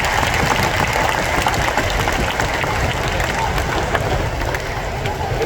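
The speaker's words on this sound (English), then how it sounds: "let's give all of them a big round of applause to thank them for their hard work" Audience applause fills a large gathering at the One Punggol grand opening in Singapore, a steady dense wash of clapping from a crowd that holds at an even level throughout, with crowd murmur beneath it.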